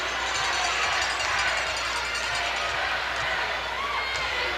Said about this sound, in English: That crowd's still chanting